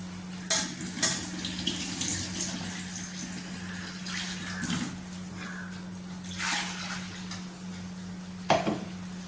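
A mixer jar is rinsed with water in a home kitchen: close splashing and pouring over a low hum, with clinks of the jar and a few sharp knocks.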